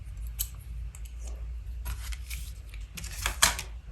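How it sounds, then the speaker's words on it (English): A cutting knife slicing through card blank while making an hourglass flip card, heard as a close, steady run of scraping cuts with a few sharper snips and clicks, no voices. "So get your cutting knife."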